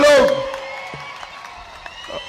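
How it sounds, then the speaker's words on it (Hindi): Crowd at an outdoor political rally claps briefly for candidate Ratna, a short burst of applause that fades quickly behind a loud amplified voice. "आप ताली बजाओ रत्ना जी के लिए सभी लोग।"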